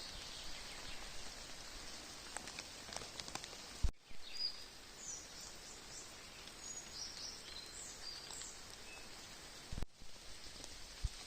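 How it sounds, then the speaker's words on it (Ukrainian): Steady rain patters on leaves in a Carpathian mountain forest in fog, with scattered drips and a couple of brief knocks. "Дощик, туман."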